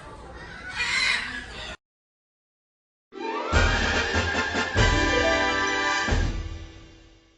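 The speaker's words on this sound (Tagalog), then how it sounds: "Lorenzo, this one is in the book, your book, Scarlet Macao" A scarlet macaw at a bird park lets out loud, raucous squawks and harsh screeching calls close by, broken by a short silent gap and then a long, strident run of cries.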